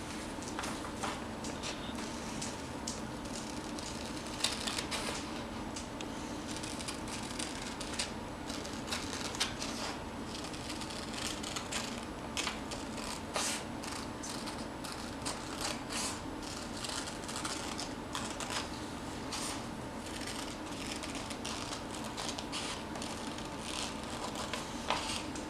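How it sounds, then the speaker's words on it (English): Scissors snipping paper around a protractor for a classroom foldable, a steady run of small crisp cuts and rustles close up, quiet, with no talk over it. "The white one, we're going to cut all the way around the protractor."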